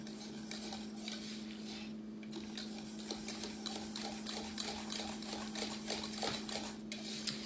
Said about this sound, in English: we want to add in 1 teaspoon of vanilla, and we're going to whisk that in while it's still hot